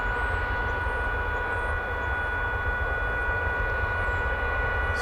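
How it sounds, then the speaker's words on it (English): A Polar DHL cargo plane comes in to land at DFW Airport, its engines a steady, loud, broadband roar that holds constant throughout without talk. "That's a Polar DHL"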